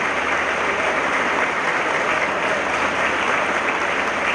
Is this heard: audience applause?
yes